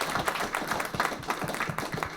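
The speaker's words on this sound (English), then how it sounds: "Let's give a round of applause for our master debaters." An audience applauds debaters at a live event, with steady, dense clapping at moderate volume throughout and no one speaking.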